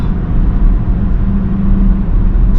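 A BMW X6 M50d diesel SUV pulls hard through its turbo boost, a deep steady engine drone and low rumble heard from inside, continuous and loud with no talk over it.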